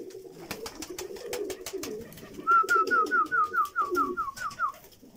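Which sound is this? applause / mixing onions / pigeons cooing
pigeons cooing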